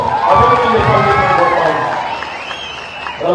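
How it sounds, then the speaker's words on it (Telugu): A large crowd at a political rally for a parliamentary candidate claps and cheers, a dense, loud, continuous roar of applause with voices mixed in throughout. "అభ్యర్థిగా ముందుకు పిలిచేసిన ఆత్మ సభ గారికి ఒకసారి గట్టిగా చప్పట్లతో"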